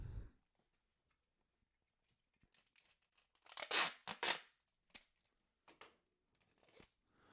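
A strip of tape pulled and torn off a roll while packing Pokemon cards for grading, a few quick close ripping bursts in a quiet room with small rustles before and after.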